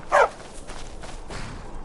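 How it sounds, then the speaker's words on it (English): A trained war dog in Skyrim gives one short, sharp bark at the start, followed by faint shuffling and ambient noise. "Need a trained war dog? Fiercest companion money can buy."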